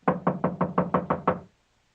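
A run of seven steady knocks on a study door in an old radio mystery drama, crisp evenly paced raps at close range that stop abruptly into silence.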